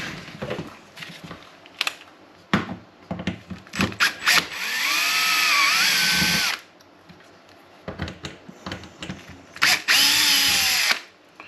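A power drill backs three screws out of the plate on a Cannon safe with a failed keypad: several loud, close whirring bursts, short starts and two longer sustained runs with pitch sweeps as the screws loosen, separated by brief pauses.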